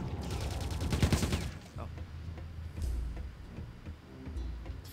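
Rapid chain gun fire from an enemy soldier in the game Quake 2 Enhanced, a dense burst of repeated shots in the first second and a half, then scattered softer shots and game effects under a faint voice.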